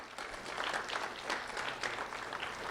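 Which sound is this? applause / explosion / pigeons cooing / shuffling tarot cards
applause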